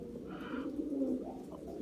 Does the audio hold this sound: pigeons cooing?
yes